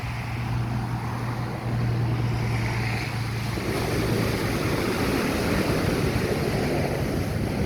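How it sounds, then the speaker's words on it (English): Ocean waves at Hilo Bay, Hawaii, wash in as a steady, fairly loud surf roar with wind rumble on the microphone, continuous for the whole stretch with no talking. "It looks like the waves are a little bit strong today."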